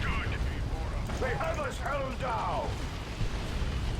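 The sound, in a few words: explosions in Warhammer 40,000: Dawn of War 2 video game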